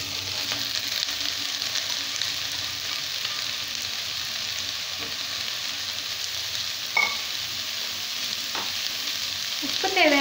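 Vegetables for mushroom fried rice sauté in a pan with a steady, even sizzle and a few light stirring scrapes near the end, close and moderately loud with no talking.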